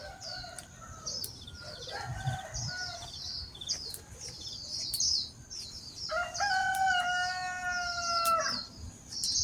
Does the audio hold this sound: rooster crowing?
yes